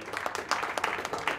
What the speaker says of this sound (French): On applaudit l'homme qui nous a permis de nous retrouver ici